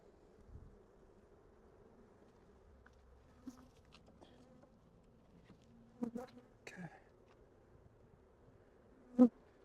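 Honey bees around a beehive, worked during a Demaree swarm-control split, give off a faint, steady buzz close by. A few soft knocks and one sharper tap stand out over the quiet hum.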